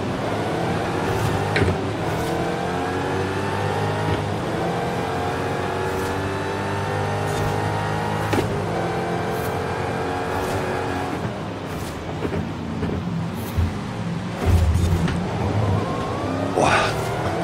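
Racing cars in Forza Horizon 5 rev and accelerate continuously, engine tones climbing and shifting through gears with occasional tire squeal and passing cars, loud and steady throughout, while players talk intermittently.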